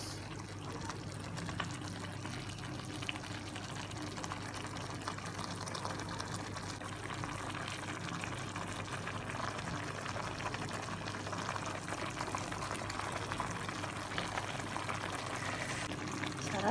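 A pot of Filipino ulam simmering on the stove gives a steady, even hiss of bubbling liquid over a low hum, unchanging and fairly quiet throughout.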